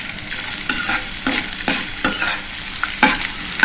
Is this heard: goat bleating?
no